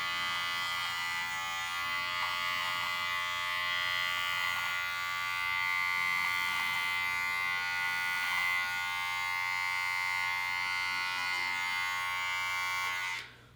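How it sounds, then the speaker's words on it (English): An electric beard trimmer buzzes continuously while clipping stray hairs above the bulk of a beard, a close, steady whirring drone with slight wavering as it moves across the face. "just trimming any of these tiny little rogue hairs above the bulk of my beard"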